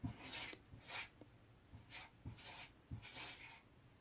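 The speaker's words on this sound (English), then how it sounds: "That's my cat scratching on the door because he wants to come in" Faint rasping scratches from a cat clawing at a door come in short bursts at an irregular rhythm, a soft scraping against a hard surface, somewhat distant and quiet.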